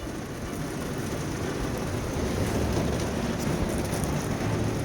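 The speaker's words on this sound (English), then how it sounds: "is it storming right now" A heavy early-morning rainstorm in Alaska pours down as a dense, steady roar of rain with no break.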